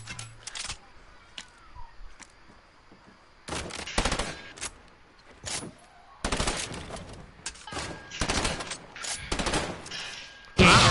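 Bursts of heavy-recoil gunfire in a video game, loud broadband volleys ranging from single cracks to long sustained rattles, spaced irregularly across the clip with quiet gaps between them.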